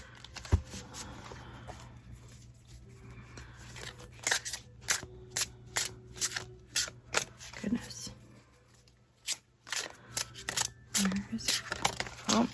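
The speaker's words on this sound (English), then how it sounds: "this is a little tough to shuffle" Tarot cards are shuffled in quick, crisp bursts of riffling and snapping, repeating irregularly at close range, with a quiet voice murmuring between them.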